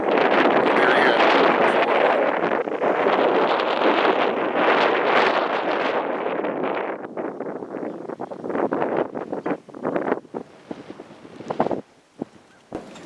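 Strong wind on a hilltop during a winter deer hunt buffets the microphone with loud, continuous rumbling that eases and turns gustier and patchier toward the end.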